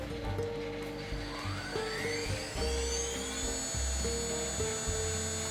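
A CNC spindle motor run by a VFD and set near 10,000 RPM spins up with a steady, loud electric whine that climbs in pitch, over a continuous stepped mechanical hum from the machine.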